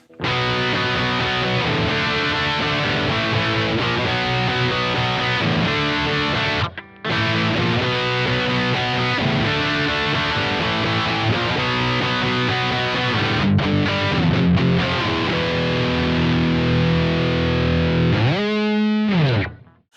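Overdriven electric guitar chugs and sustains thick distorted chords, loud and continuous with a brief break, closing with a bending squeal before cutting off.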